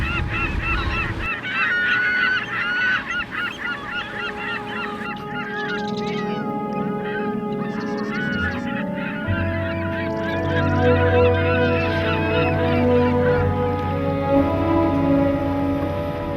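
Seabirds feeding at dawn over a fish-rich bay where seals and porpoises also hunt, a dense, continuous chorus of overlapping honking and squawking calls that stays loud and busy throughout.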